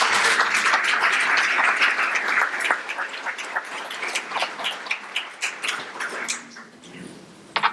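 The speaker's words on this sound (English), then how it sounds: "I'd like to ask for another round of applause for them and all the work that" Dense applause from a conference audience fills the room, tapering into scattered individual claps that thin out and fade over several seconds.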